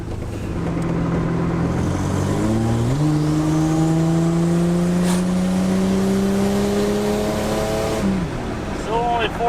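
A barn-find Buick Grand National with little boost accelerates on the road, its engine rising steadily through gears with clear shifts, loud and close inside the car, with people talking over it.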